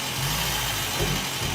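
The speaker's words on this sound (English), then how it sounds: "So this is a 22RE, pretty reliable motor, really hard to kill." A Toyota 22RE engine running steadily and refusing to stall, a loud, close, rough mid-pitched drone that holds throughout with slight surges.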